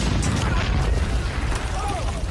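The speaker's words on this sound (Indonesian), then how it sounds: "sebuah ledakan menghantamnya" A heavy, rumbling blast with dense low booming fills the whole moment, loud and close, like a detonation with debris.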